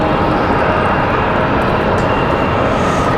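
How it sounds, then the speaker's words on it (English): A Delta airliner on its takeoff roll at Raleigh-Durham International Airport gives a loud, steady jet engine roar that fills the whole clip without a break. "Alright, Delta cleared for takeoff."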